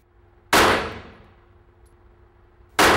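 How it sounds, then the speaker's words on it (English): Two sharp handgun shots fired downrange at a target during laser sight-in training, loud and close, about two seconds apart, each with a short ringing decay. "let's put a few rounds downrange."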